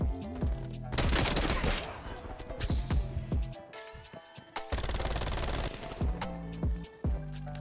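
Tec-9 SMG fire in Call of Duty Cold War multiplayer: rapid bursts of close, sharp gunshots crackle in several strings, broken by short pauses and single shots.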